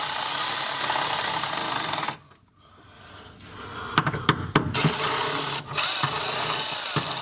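Fasteners on a small plastic fuel tank holder of a Ford Transit are tightened: a broadband tool whir drops out, then returns as several sharp clicks and a renewed grinding whir, close up.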